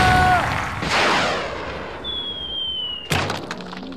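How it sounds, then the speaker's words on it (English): A deep booming blast like a cannon going off, followed by a descending whistle and then a sharp crash and clatter. "a man will be shot out of a cannon"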